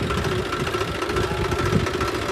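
A tractor engine runs steadily at close range, a continuous mid-pitched idle with a rough knocking rhythm and no talk.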